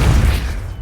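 A Depulso force spell cast in Hogwarts Legacy gives one loud, low thump with a brief rumbling tail that fades within a second.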